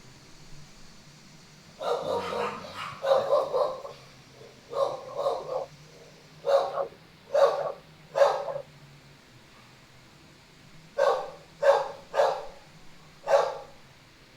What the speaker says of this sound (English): I hear someone barking.